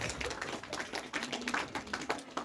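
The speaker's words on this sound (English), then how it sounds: "What a huge round of applause." An audience at a school cultural program claps in a dense, steady round of applause that holds at an even level from start to finish.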